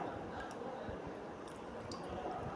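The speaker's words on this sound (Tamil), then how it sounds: "ஃபைனலாக கொஞ்சமாக எலுமிச்சம்பழம் மாத்திரம் புளிஞ்சு விட்டுறலாம்" A lemon is squeezed into freshly made grape juice, giving a close, continuous wet squishing with small drips and liquid trickling throughout.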